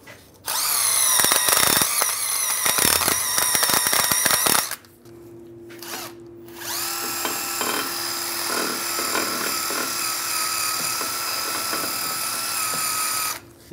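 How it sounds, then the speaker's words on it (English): Wire brush cleaning the rear ABS wheel speed sensor mount on a 2007-2013 Chevrolet Silverado 1500. A loud powered whine with rough scrubbing runs for several seconds, pauses briefly, then resumes as a steady high hum. "Just gonna use a wire brush. Just clean that up a little bit."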